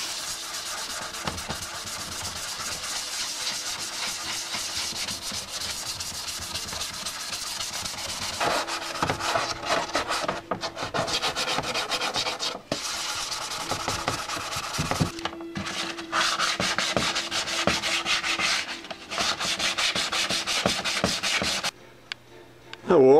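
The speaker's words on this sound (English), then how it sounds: "once I get all the sanding done with the block" Wet sanding of Yamaha FZR motorcycle bodywork with a sanding block gives a continuous close, loud rasping rub in long back-and-forth strokes, with brief breaks and a short gap near the end.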